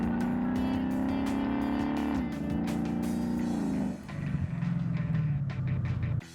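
Aftermarket XForce Varex active exhaust controlled by a SmartBox, rumbling loudly and steadily from a car, its drone shifting in pitch as the valve settings change, with a dip and then a renewed rasp toward the end.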